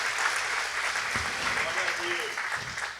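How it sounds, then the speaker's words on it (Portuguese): A church congregation applauds in a steady, sustained wash of clapping that fills the room at moderate distance. "Vamos aplaudir Jesus bem forte."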